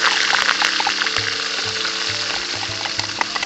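Ground shallots sauté in hot oil for village-style curry leaf chicken, a dense steady sizzle with light stirring scrapes and a faint low hum in the background, close and loud.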